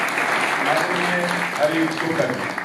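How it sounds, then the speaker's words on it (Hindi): Audience applause fills a school auditorium at a devotional bhajan program, a steady clapping wash running throughout while someone speaks over it. "आप सभी तालियों की मधुर गूंज के साथ"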